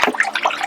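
Water runs and splashes steadily while a tie-dye tapestry is rinsed out, a close, continuous spattering flow without pauses.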